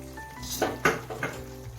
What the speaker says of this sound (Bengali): এখন নেড়ে চেড়ে আমি আবার কিছুক্ষণ রান্না করে নিচ্ছি